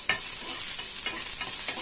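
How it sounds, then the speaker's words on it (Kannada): Okra frying in a little oil in a pan on the stove, a steady close hiss with a few brief spatters and stirring scrapes. "ಈಗ ಸ್ಟವ್ ಆನ್ ಮಾಡಿಕೊಂಡು ಬೆಂಡೆಕಾಯಿ ಫ್ರೈ ಮಾಡ್ಕೊಳ್ಳೋಣ"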